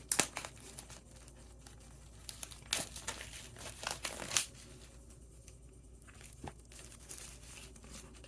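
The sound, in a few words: removing plastic cover from smartwatch packaging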